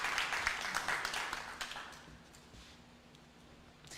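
A live audience on a music show applauds the band, with quiet scattered clapping that fades over a few seconds.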